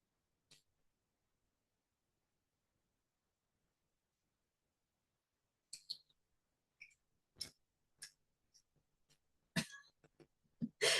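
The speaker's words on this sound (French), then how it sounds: "j'ai mon chat qui voudrait jouer avec les baguettes" A cat plays with sticks indoors: near-silence at first, then a cluster of sharp, dry taps and clicks, irregular and close, growing busier toward the end.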